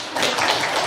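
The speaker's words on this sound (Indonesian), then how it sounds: "kalau sepakat tepuk tangan semuanya ya" A seminar group breaks into brief, dense clapping, a steady wash of many hands at moderate loudness with no voices over it.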